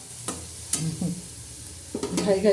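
Chicken masala sizzles in a pan, with a few sharp stirring scrapes and a steady frying hiss that rises near the end; close and fairly loud, no voices.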